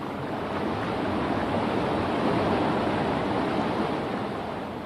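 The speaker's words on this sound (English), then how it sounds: "As water flows over this fall, it carries some air with it into the stream below." Water pours over a small waterfall into the stream below, a continuous dense rushing hiss that stays even and close from start to finish, with no voices.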